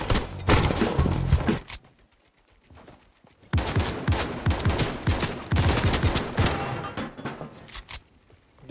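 Rapid gunfire from a powerful weapon in the video game Fortnite crackles in two loud, dense bursts separated by a short lull, the second burst longer with individual shots audible.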